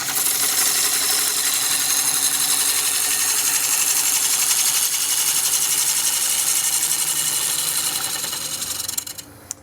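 Wood lathe turning a very dry, hard Jatoba (Brazilian cherry) urn blank held in flat jaws, a loud steady whir with tool scraping running continuously and close, then tapering near the end.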